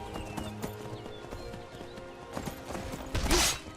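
Horse hooves clip-clop at a steady gallop-like rhythm in the video game Skyrim, close and moderately loud over game ambience and music, ending with a louder burst of noise.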